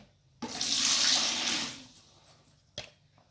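Half a liter of water poured into a container to dissolve AB-mix hydroponic nutrient concentrate: a loud, steady rushing splash that starts abruptly, tapers off after about a second and a half, then ends with a single small knock.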